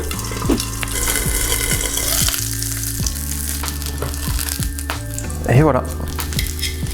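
Salmon fries in a pan in a Japanese-style home meal, a steady close sizzle with a few utensil clinks; a voice speaks briefly near the end.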